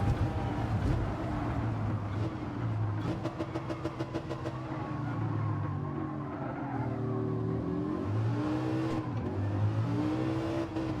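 Four-wheel-drive Lamborghini Huracan LP610-4 racing in Gran Turismo 7, its engine revving steadily and loudly with rising and falling pitch through gear changes, with no speech.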